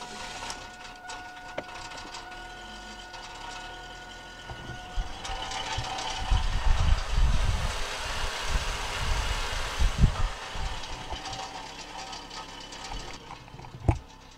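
A car engine idles after a restart with soda pop used in place of antifreeze, a low rough rumble at moderate distance with uneven knocks and surges in the middle.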